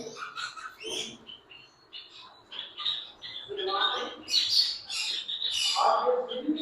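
Tamed exotic parrots, African Grey and Rosella types, calling in a room with sharp squawks, chirps and whistles, close and intermittent at moderate loudness.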